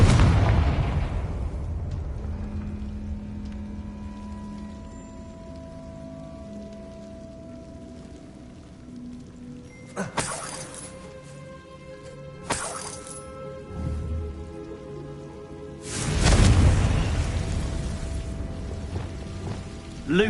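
In the video game Hogwarts Legacy, the Confringo blasting spell goes off as a few loud, crackling explosive bursts spaced seconds apart against a quiet background drone.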